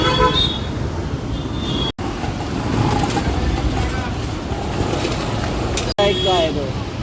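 Busy road traffic in Bhiwandi heard from a moving vehicle: a continuous dense rumble of engines and road noise with honking horns, loud and close, and a voice talking over it.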